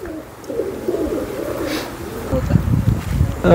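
Low, soft cooing of pigeons repeats close by, with fluttering and faint buzzing in the background.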